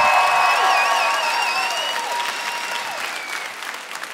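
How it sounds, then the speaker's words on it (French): A comedy show audience breaks into loud, dense applause that fills the room, holding strong before slowly thinning out over a few seconds, with some whistles and scattered cheers on top. "Fais applaudissement."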